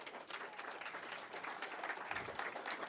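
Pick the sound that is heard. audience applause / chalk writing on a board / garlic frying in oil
audience applause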